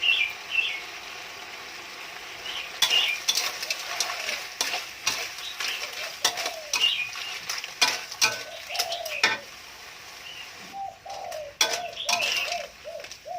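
Clams stir-fry with basil in a home-kitchen pan, steady sizzling under repeated sharp scrapes of a spatula, while doves coo softly in the background and a faint voice occasionally passes.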